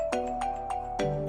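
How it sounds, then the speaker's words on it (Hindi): A phone ringtone plays a bright, repeating electronic melody of short tonal notes, close and clear with no voices over it. "किसका फोन है?"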